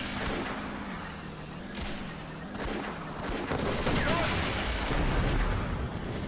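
Tank gun fire and battle noise in the video game Steel Fury: Kharkov 1942: a dense, rumbling wash of booms and muffled blasts over a constant engine drone.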